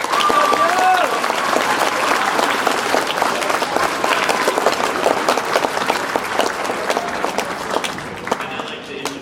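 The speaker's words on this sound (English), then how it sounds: "Let's give them a round of applause." An audience at a school awards ceremony claps warmly for student award winners, a dense, sustained round of applause that starts strong and slowly thins out, with a few voices and cheers mixed in.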